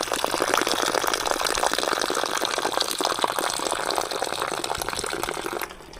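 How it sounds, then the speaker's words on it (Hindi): Water pours and gushes out of a large drum in a steady, loud, splashing stream, close by, easing off slightly at the very end, with no talk. "जितना पानी ड्रम में है ये मुझे निकालना होगा"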